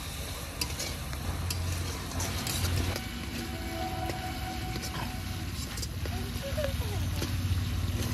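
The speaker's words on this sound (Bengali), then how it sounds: "এবার মশলাটা ভালো করে কষে নেব।" Spice paste seasoned with salt and turmeric fries in a pan with a constant crackling sizzle, stirred with scraping strokes throughout.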